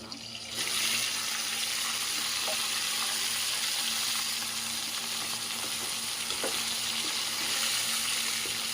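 Chicken hits a pan of fried onions and sizzles loudly, a dense steady crackle that swells after a brief quieter start, with a few faint clinks of stirring.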